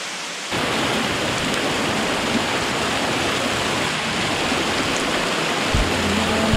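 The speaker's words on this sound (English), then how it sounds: "Let's have a look at this waterfall." Waterfall in Armenia roaring as a steady, dense broadband rush that starts abruptly after half a second and holds loud and unbroken throughout, with a faint low hum near the end.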